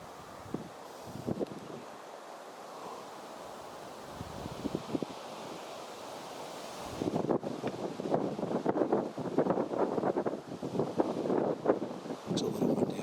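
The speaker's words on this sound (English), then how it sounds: "It's a little windy up here." Gusty wind buffets the microphone on a hilltop, faint at first, then a strong, roaring rush of blustery noise rises and keeps pounding the mic in uneven bursts.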